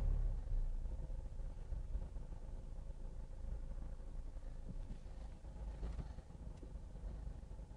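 A car pulls away from a stop on a driving test route in Rathgar, its engine a steady, moderately quiet low rumble with road noise, and no distinct change in revving.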